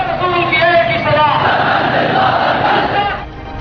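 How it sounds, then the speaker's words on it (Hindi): A huge protesting crowd in the streets of Lahore, stretching for kilometres, shouts and chants together in a loud, roaring mass of voices with rising and falling cries. "कई किलोमीटर तक फैली इस भीड़ को देखिए और इस बागी शोर को सुनने और समझने की कोशिश कीजिए"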